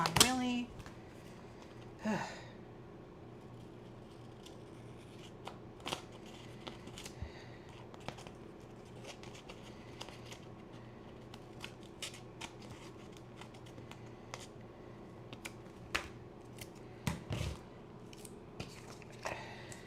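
Scissors cutting paper for scrapbooking, scattered short snips and crisp cuts spread across a quiet room, close and fairly soft.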